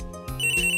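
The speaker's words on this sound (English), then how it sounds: "Wow, that phone is loud." A telephone rings in Phoenix Wright Ace Attorney, a short, loud, electronic trilling ring heard alone.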